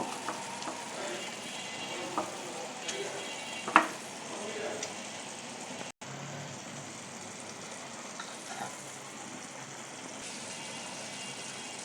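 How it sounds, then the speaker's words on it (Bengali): Marinated Aiir fish frying in a pan with tomatoes gives a steady, moderate sizzle with faint stirring clinks, holding evenly throughout with one brief louder knock partway in. "এখন ম্যারিনেট করা মাছগুলা দিয়ে দিব"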